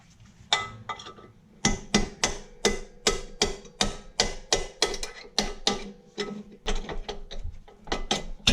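A ratchet loosens two bolts on a diesel Jeep's suspension during a lift job, giving a loud, close series of rapid clicking bursts in a steady back-and-forth rhythm with brief pauses between strokes.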